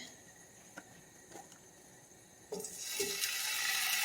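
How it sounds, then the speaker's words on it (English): Drained pineapple tidbits hit hot frying oil, and after a quiet moment with a few small clinks a loud, broad sizzle bursts up and keeps building into a steady hiss. "So first in, we're going to put our pineapple tidbits, which have been drained."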